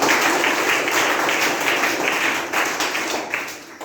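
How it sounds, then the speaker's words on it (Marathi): An audience at a children's school assembly applauds a student speaker, with steady, dense clapping that carries through the whole stretch and fades slightly toward the end. "वैष्णवीसाठी जोरदार टाळ्या वाजवा"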